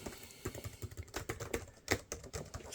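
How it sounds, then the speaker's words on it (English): Fingers type on a Lenovo ThinkPad L440 laptop keyboard, producing close, irregular clicks and thumps of deep-travel keys in short runs, fairly quiet and without speech. "There's quite a lot of travel in this keyboard"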